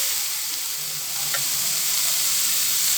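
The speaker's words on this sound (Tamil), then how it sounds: "இஞ்சி பூண்டு பேஸ்ட்டு போட்டு நல்லா வதங்கிருச்சு." Ginger garlic paste sautéing in a pan for a chicken samosa filling gives a steady close sizzle with faint stirring scrapes, continuous and unbroken, with no one talking.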